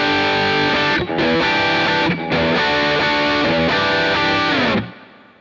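Electric guitar through an overdrive pedal with the highs brought back in, playing loud, bright, distorted chords in short strummed phrases with two brief gaps, ending in a fading decay.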